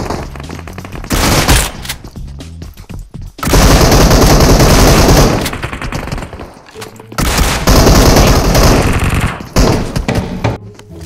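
Gunfire in PUBG on the Sanhok map, loud bursts of rapid automatic fire that come in long sustained stretches separated by brief gaps, with sharp single cracks in between.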